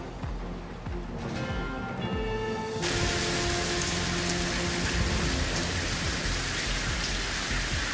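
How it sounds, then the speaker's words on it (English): Heavy rain from a spring storm in the Bay Area pours down in a dense, steady hiss that swells louder after a few seconds, with no voices. "A wet start to the weekend as a spring storm dumps rain all across the Bay Area"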